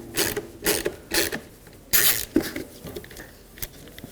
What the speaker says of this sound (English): Right next to the fog light, you'll see a Phillips head screw. Let's remove that